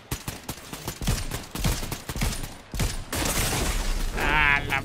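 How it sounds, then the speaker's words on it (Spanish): Gunfire in a Fortnite match: quick bursts of sharp shots in irregular rhythm with mechanical clicks and reload-like rattles, loud and close, ending in a higher tonal warble, no voices. "Disparenles, güey, me están disparando."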